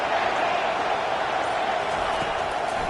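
A college football video game stadium crowd roars in a steady, dense wash of cheering noise that holds at an even, loud level throughout.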